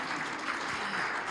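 Brief clapping from a conference audience, a dense continuous patter of hands lasting just over a second, fairly loud with no voices over it.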